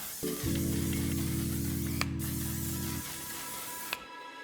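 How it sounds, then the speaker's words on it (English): A single sustained spray of waterproof makeup setting spray hisses for about two and a half seconds, close to the mic, then cuts off. "take the Until Dawn waterproof setting spray and lock it all in"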